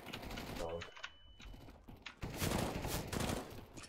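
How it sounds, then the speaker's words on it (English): Bursts of gunfire from a burst-fire weapon in Counter-Strike: Global Offensive, sharp clustered cracks in the second half mixed with game noise, with a voice talking early on. "Why is my burst fire on, dude? I almost died because I used burst fire."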